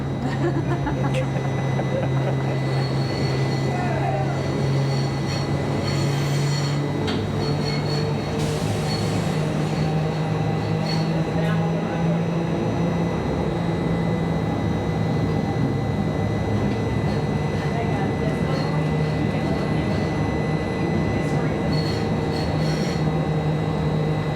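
A trolley car climbing a hill rumbles along steadily with a low, laboring motor drone and metallic rail noise, continuous and close throughout.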